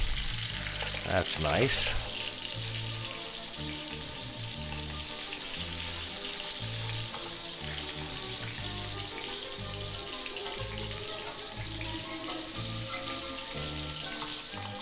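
Venison sausage meatballs sizzle and fry steadily in a pan, a constant crackling bed with a few louder stirring clatters near the start and a brief voice over it.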